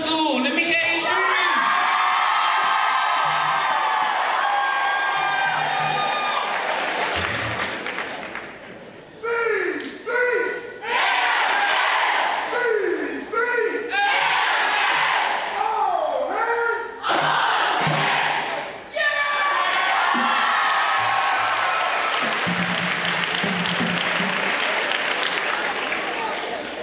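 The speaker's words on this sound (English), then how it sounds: "Colleton Annex Learning Center, let me hear you scream." Students and staff at a 2014 Colleton County School District convocation scream, whoop and cheer loudly, a packed indoor crowd roaring in repeated surging waves with brief dips between bursts, an announcer's voice cutting in over the noise.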